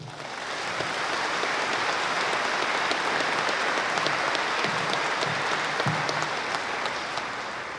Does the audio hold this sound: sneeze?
no